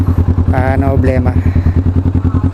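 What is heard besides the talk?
motorcycle engine and exhaust running at low RPM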